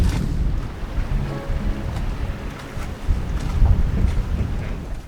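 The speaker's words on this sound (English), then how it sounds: "We've still got quite a bit of wind blowing" Wind gusts buffet the microphone at a boat anchorage, a rough, rumbling low roar that rises and falls with faint water sounds beneath.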